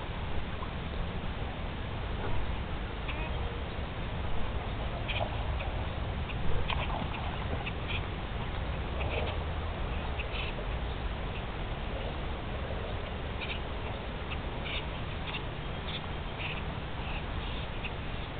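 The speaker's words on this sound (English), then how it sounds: "I'm getting told off by a blackbird or something around here." Scattered sharp chinking alarm calls from a blackbird, unseen nearby outdoors, repeat irregularly over a soft steady background hiss.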